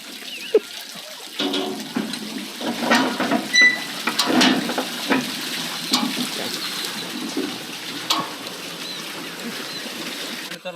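Water pouring and splashing from the buckets of a rotating water wheel in a Vedic village, continuous close rushing flow with irregular surges and faint background voices.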